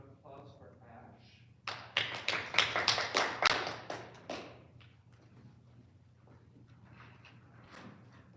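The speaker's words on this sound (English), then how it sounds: "Round of applause for Ash" Brief burst of audience applause for a Grade 8 spelling bee contestant, a few seconds of fairly close claps rising and fading, with a low hum and quiet murmuring before and after.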